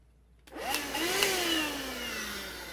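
A Ryobi ONE+ 18V cordless vacuum switches on and spins up to a steady, whining hum, close and loud, with a brief rise in pitch as it gets going.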